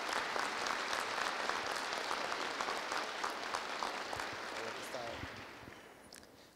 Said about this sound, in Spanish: a quien lo recibimos con fuertes palmas